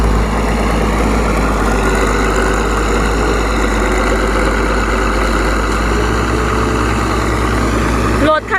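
A tractor engine runs steadily with a deep, continuous low rumble and knocking idle, loud and close throughout, cutting off abruptly at the end.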